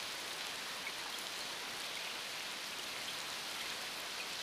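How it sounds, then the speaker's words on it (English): Steady rain pours in an animated cartoon, a dense, even hiss of drops on surfaces that is moderately loud and unbroken, with no voices. "It started raining."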